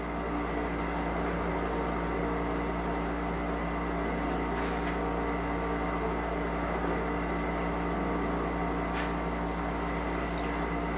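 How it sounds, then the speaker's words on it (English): A steady, humming dishwasher drone runs continuously in the background, quiet and even, with a few faint clicks and no voices. "And if you can hear my dishwasher"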